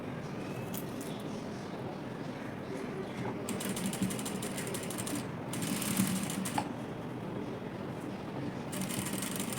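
Sewing machine stitching lace onto a frilled sleeve, a steady mechanical whirring and ticking that runs throughout at moderate level, with brief louder bursts partway through.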